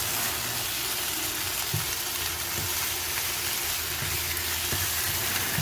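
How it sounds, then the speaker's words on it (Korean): Assorted ingredients for a sausage kimchi stew stir-fry in a little cooking oil, making a dense continuous sizzling hiss with occasional low knocks from stirring, heard up close with no voices. "일단 식용유를 약간 붓고 여러가지 재료를 넣어서 살살 볶아줍니다"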